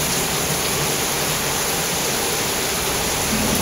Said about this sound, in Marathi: पाऊस लागतो पावसाबरोबर आहे ना वारं लागतं